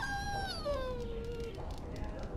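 A dog in the Dragon Age: Origins video game gives a long, falling whimpering howl that slides downward and fades, faint beneath a low background rumble.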